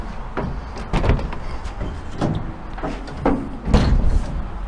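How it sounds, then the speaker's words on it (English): Doors on an old work truck in a barn are pulled open, giving several loud clunks and latch rattles spaced across the stretch, close by and without talk. "let's whip the doors open on the old work truck here and see what I got"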